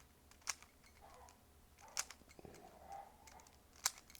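Puzzle cube being turned quickly with corner cutting, a few sharp plastic clicks and snaps spaced out over a quiet background, close and fairly faint.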